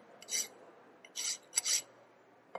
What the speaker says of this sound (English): so you have to go for the deburring. So deburr it all the sides.